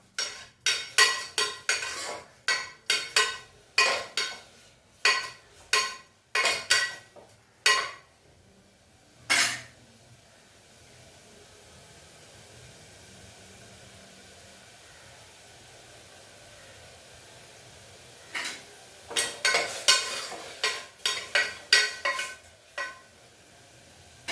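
Bursts of metal scraping and clinking in a pan as mutton is sautéed, stirred in quick rhythmic strokes, with a quiet pause in the middle before the stirring resumes.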